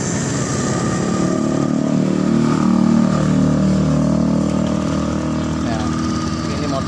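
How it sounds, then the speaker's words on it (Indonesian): A Honda Beat scooter with an intermittent starting fault runs close by, its small engine droning steadily and swelling briefly as the throttle opens, while someone talks over it. "Nah, ini motor hidup teman-teman, masih bisa hidup di Honda ini"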